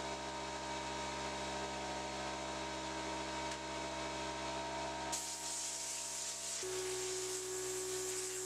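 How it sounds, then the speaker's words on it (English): Compressed air hisses steadily over foil-wrapped stainless steel knife blanks during heat treating, a loud continuous rushing noise that shifts in tone partway through, with a steady hum beneath. "blowing compressed air over each one of the blanks, cooling them down as quickly as possible"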